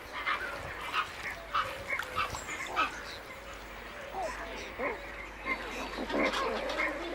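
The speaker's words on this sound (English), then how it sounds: "enormous breeding colonies of pelicans, some containing hundreds of pairs" A breeding colony of pelicans in wetland reed beds, with repeated hoarse grunting and honking calls from many birds in irregular bursts, moderately close, while a narrator speaks over them.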